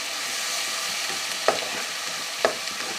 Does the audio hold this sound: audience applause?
no